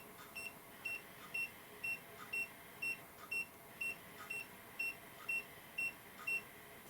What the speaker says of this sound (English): it beeps like that when it's telling you that it's going to turn off